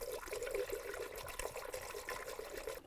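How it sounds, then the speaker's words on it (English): Coolant is poured into the cooling system of a 2002-2009 Chevy Trailblazer, making a faint, continuous liquid trickle that runs unbroken for a few seconds. "Now add your appropriate coolant and level."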